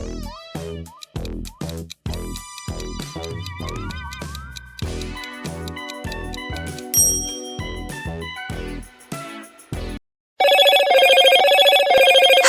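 Motorola smartphone ringtones play in sequence, first a bright chiming melody of bell-like tones, then a busier tune, ending with a loud, steady electronic ring, all close and alone without talk.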